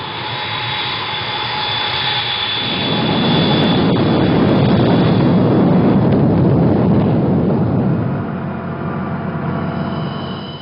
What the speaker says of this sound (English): the IAF launched its aircraft, firing the first shots in anger since the 1971 Bangladesh War